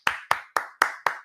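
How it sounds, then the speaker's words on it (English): Hands clapping five times in an even, steady rhythm, each clap sharp and close with a quick decay, heard alone without any voices. "So do some clapping."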